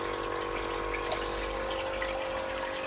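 Beer wort runs from the tap of a homebrewing vessel in a steady close trickling flow, with a faint hum beneath and one brief splash.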